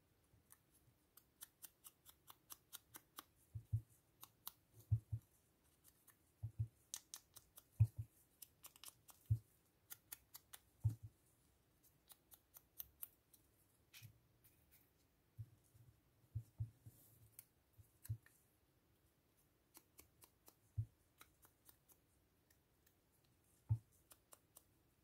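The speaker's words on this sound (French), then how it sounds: "Alors il n'y a plus qu'à les couper." Scissors cut small newspaper-like paper labels, giving quiet, close snips at irregular intervals with short pauses between cuts and no talk.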